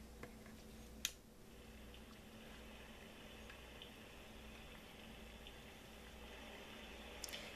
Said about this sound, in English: And that's the sound of rain.